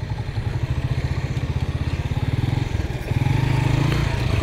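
A motorcycle ridden slowly through deep sand, its engine throbbing steadily and close, with a rough, pulsing note that rises slightly partway through.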